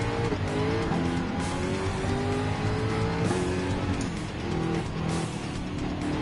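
A Jaguar F-Type Group 3 race car with a high-torque supercharger in Gran Turismo 7 at Autopolis gives a loud, steady, rising and falling engine roar with tire squeal through corners, with no talking.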